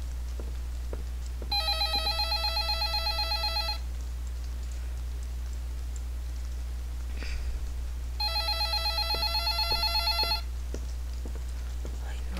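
A telephone rings in the horror video game Stalked with two bursts of trilling electronic rings separated by a pause, heard clearly over a steady low hum.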